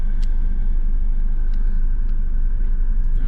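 A car rolls slowly straight backward during a Florida driving test, giving a steady low engine and road rumble heard close from inside the cabin, with no talk.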